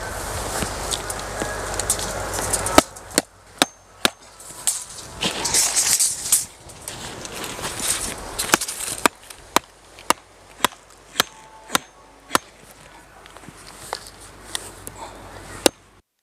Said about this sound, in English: So a big hammer, stone hammer.